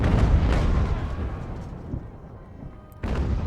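Artillery fire in Ultimate General: Revolution, a continuous dense rumble of cannon booms over a battlefield that eases off mid-clip and then swells again loudly near the end.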